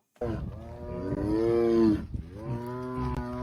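A tiger gives a long, low, droning call mimicking a cow's moo that swells for about two seconds, pauses briefly, then resumes more softly.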